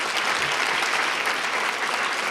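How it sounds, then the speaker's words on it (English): An audience at a Seattle town hall event claps in sustained, dense applause that holds steady for a couple of seconds. "Can we give her a round of applause for coming?"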